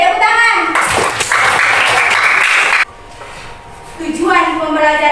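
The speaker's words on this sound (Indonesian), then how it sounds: "Oke, tepuk tangan." Schoolchildren in a classroom clap together during a poetry-writing lesson. The burst of applause sits between stretches of a speaking voice and fades as the talk resumes.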